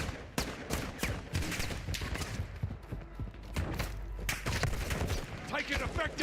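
Rapid gunfire and heavy impacts from a Black Ops 6 match, dense bursts hammering throughout, with players talking excitedly over the shooting.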